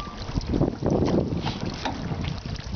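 A small rowing boat gliding on the river at Tràng An, with close splashy water swishes and gusty wind buffeting the microphone.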